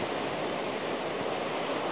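Ocean waves wash over the south coast beach at Karanghau, Sukabumi, making a steady, dense roar of surf with no gaps and no voices.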